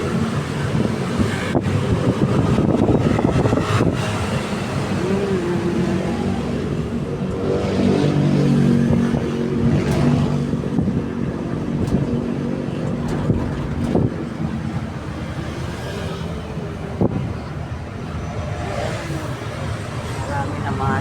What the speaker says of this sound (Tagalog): Marami na mga sasakyan.